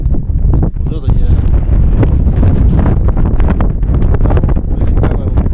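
Strong wind buffets the microphone in a loud, continuous roar with gusty rumble, recorded outdoors under a cloudy sky at high speed descent; a voice talks faintly beneath it.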